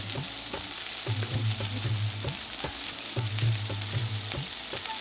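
Ground spices, turmeric and chili powder among them, sizzling and frying in a pan for a chicken curry, with a steady hiss broken by repeated scraping strokes of a stirring spoon.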